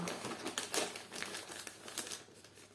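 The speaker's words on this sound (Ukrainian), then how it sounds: "розпаковка подарунку від Вікторії на день народження" Wrapping paper on a birthday present crinkles and tears in quick, irregular bursts as the gift is unwrapped close by, each rustle sharp and bright.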